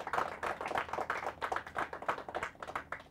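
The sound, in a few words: audience clapping to congratulate Goa team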